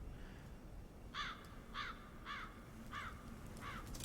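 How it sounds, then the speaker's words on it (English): Several crow caws in the video game Little Inferno, spaced about half a second apart, call out over a steady low rumble of background noise. "The noise of crows."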